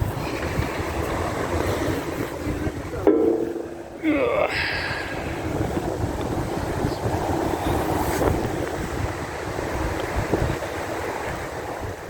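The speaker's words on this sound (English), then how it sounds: "It's a very, very windy day today" Steady, heavy wind rumbles and buffets across the whole stretch at Cossington Lock, with gusty low roaring and a brief muffled clatter partway through.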